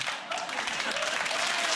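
A television studio audience claps in a quick spatter that builds slightly toward the end. The applause is moderately loud and steady, with no speech over it.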